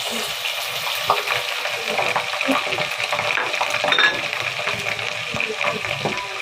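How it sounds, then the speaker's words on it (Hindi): Garlic and ginger paste sizzles steadily in a pan, a continuous crackling fry with occasional stirring scrapes, close and moderately loud with no voices. "हम लहसुन और अदरक के पेस्ट को हम भून लेंगे।"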